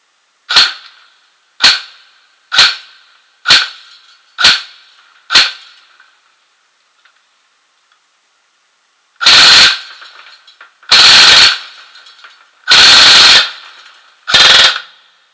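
Airsoft replica guns powered by LiPo batteries fire six evenly spaced single shots, then after a pause four longer, louder full-auto bursts, sharp and close.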